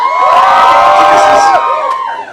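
A live comedy show audience screams and cheers loudly on cue, a dense sustained crowd roar with high shrieks that holds for over a second before fading out.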